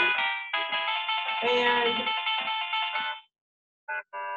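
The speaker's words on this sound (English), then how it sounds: "Excuse that ringing." A phone ringtone plays loudly and continuously for about three seconds, a bright electronic melody, then cuts off, followed by two short bursts as it briefly sounds again; a single spoken word is also heard.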